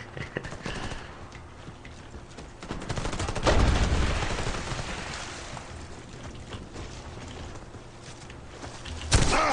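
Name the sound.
gunfire from the video game Warface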